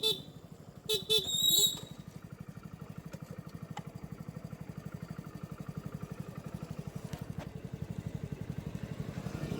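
A motorcycle cruising steadily in third or fourth gear, its engine giving a continuous, evenly pulsing drone close by, with a brief horn-like tone and road noise near the start and no talking.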